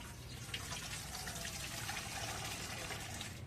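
Water is poured steadily while preparing jackfruit for cooking, a soft, continuous gushing splash heard close and alone for a few seconds.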